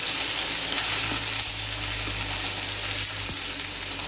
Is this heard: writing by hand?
no